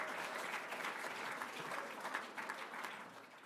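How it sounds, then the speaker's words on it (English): Applause from the audience at a university athletics hall of fame induction ceremony, a steady wash of many hands clapping heard at a distance, fairly faint and even throughout. "I'll take that clap"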